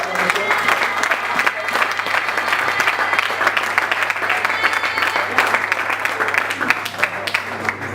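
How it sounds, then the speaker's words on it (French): Church congregation applauding and cheering the Lord during a group presentation, a dense continuous wash of clapping with crowd noise and voices mixed in, steady and loud throughout. "On va acclamer le Seigneur pour nous."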